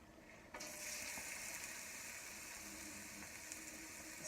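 Chopped onions hit a pan on a medium stove and start frying, a sudden loud hiss that settles into a steady, close sizzle with no talking.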